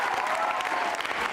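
Brief burst of audience applause for a contestant at a school quiz show, dense steady clapping from a crowd, moderately loud, lasting only a moment.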